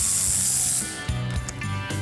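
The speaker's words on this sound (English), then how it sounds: "that's where you run your socket through to take the 5 nuts off that hold the axle in place" A socket wrench ratchets off the axle nuts of a 1971 Plymouth 'Cuda 340 convertible, a loud dense clicking whir that then breaks into a few short irregular ratchet strokes.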